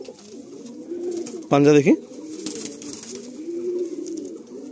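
A high-quality male Madrasi pigeon gives a brief coo up close while someone talks over it throughout.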